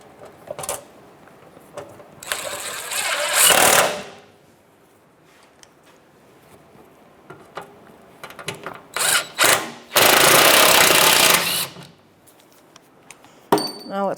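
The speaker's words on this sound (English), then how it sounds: "I'm going to get my 10mm socket and the 2 other bolts," Ratchet with a 10mm socket snugging bolts on a Toyota 4Runner under the vehicle, heard as loud bursts of clicking and clattering metal separated by quieter pauses.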